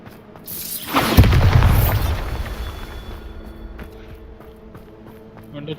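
A Bombarda spell from the game Hogwarts Legacy detonates in a single deep boom that rolls on for about a second, then fades into a long, low rumbling tail with ambient game sound.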